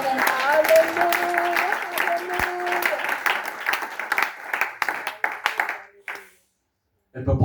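A church congregation applauding loudly, a dense burst of clapping with cheering voices that fades out, then speech resumes.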